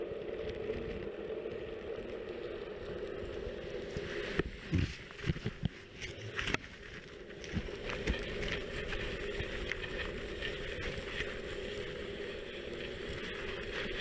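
A steady low rumble with scraping and grinding underwater, punctuated by a few sharper knocks midway, as a CQR boat anchor drags along the seabed.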